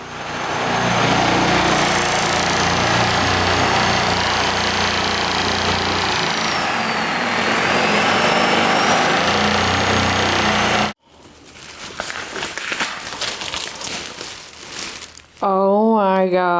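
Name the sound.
drill boring a hole through wall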